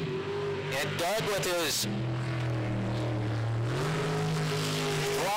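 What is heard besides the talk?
race car engine, throttle feathering into a corner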